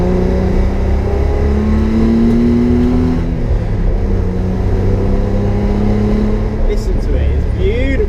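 A Datsun 260Z engine runs steadily throughout, with rising and falling tones that suggest light revving. Hum and rumble stay loud and close, with faint background noise, and no one speaks.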